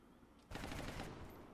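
A brief burst of automatic gunfire in the XCOM video game, a single rattling volley lasting about a second, faint overall and heard alone.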